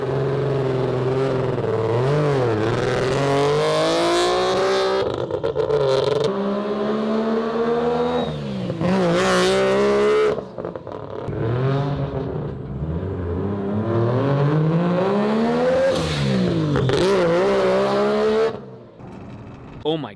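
A three-rotor rotary engine car revs hard on a dyno, its rising and falling harmonic wail sweeping up through several loud pulls with brief drops between, and a voice talks briefly over it.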